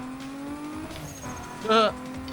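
Race car from the Need for Speed Most Wanted demo on a classic Xbox 360, engine droning steadily with a brief louder tire or rev burst near the end, heard beneath excited people talking.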